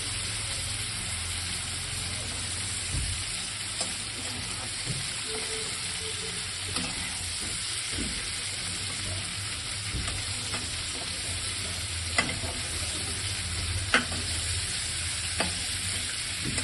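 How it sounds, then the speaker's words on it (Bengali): Shrimp frying lightly in oil, a steady soft sizzle and hiss throughout, with occasional light stirring taps and a few sharp clinks of a utensil, close and fairly even in level. "চিংড়ি মাছটা আমি হালকা করেই ভাজবো।"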